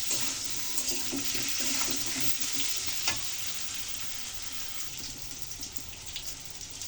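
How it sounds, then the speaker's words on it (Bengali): Potato and eggplant pieces fry in hot oil, a steady close sizzle with occasional stirring scrapes and a brief clatter, the crackle gradually easing toward the end. "আলু বেগুন দিয়ে কিন্তু সুন্দর করে ভেজে নিয়েছি।"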